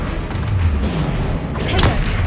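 Repeated Confringo fire-blast spells cast in Hogwarts Legacy, loud booming bursts landing over continuous game noise, with a sharper blast near the end.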